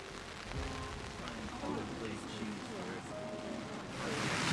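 Torrential downpour of rain on a November morning before a running race, a thick continuous roar of pouring water with dense spatter, with a voice faintly audible under it.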